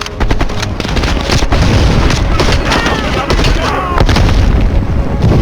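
Heavy booms and blasts in the Call of Duty: Black Ops Cold War mission "The Final Countdown", with dense explosive impacts and rapid gunfire crackling almost without pause, loud and close.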